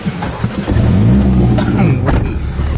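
A 2020 Mini JCW GP engine fires up close by and revs hard, a loud throaty roar rising and falling.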